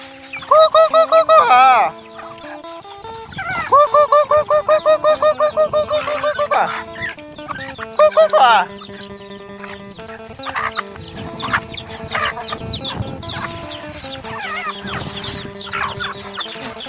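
Chickens cluck and squawk loudly close by while being fed rice, in repeated rhythmic bursts early on, then scattered clucks and pecking scuffles over a noisy farmyard background.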